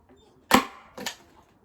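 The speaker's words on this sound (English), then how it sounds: "And then I will staple" Staple gun fastening fabric onto a homemade kids bench: two sharp snapping shots about half a second apart, close and loud.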